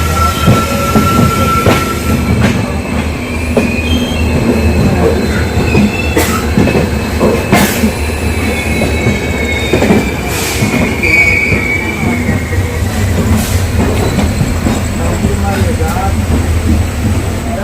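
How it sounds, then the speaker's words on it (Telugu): An express train rolls out of Katpadi station, its wagons rumbling loudly and continuously with periodic wheel clatter and faint squeals, heard close from inside a coach. "1 hour హాల్ తర్వాత ట్రైన్ ఇప్పుడు బయలుదేరింది"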